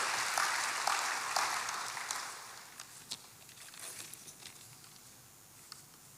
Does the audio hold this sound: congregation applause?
yes